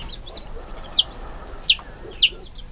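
A hen clucks three times in short, sharp bursts while being washed on a farm in the Arizona desert, close and clear over a low steady background.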